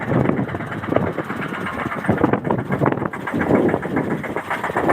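A tractor engine runs steadily nearby on a farm, a rough continuous chugging drone with slight fluctuations, loud and unbroken throughout with no one speaking.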